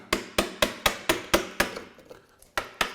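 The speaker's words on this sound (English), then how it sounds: "I'm putting the knife, the tip of the chisel about 1/8 of an inch down" A bevel-up chisel struck with a mallet chops out a quarter-inch-deep dado in wood for a hand-built bookcase, giving about ten sharp, evenly spaced knocks close by, with one brief quieter gap near the end.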